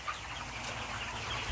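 Free-range hens clucking inside a poultry house, a steady dense chorus of overlapping clucks close by, continuous throughout with no talk.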